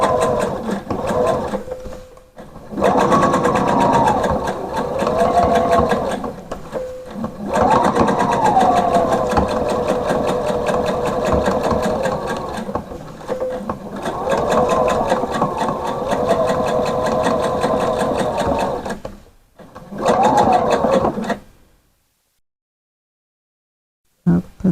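A sewing machine runs steady topstitching along a skirt ruffle, a loud continuous whirring hum broken by short pauses, stopping near the end and giving way to silence.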